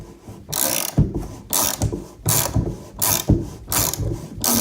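Broken tub drain with a snapped crossbar being forced loose and worked out of the tub, giving repeated loud ratcheting, grinding clicks in bursts about every second, close by with no talk.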